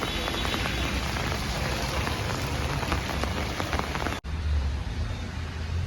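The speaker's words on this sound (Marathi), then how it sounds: "किती जोरात पाऊस चालू आहे" Heavy rain pours down steadily, a dense loud hiss of drops drumming on surfaces, with a brief cut near the end.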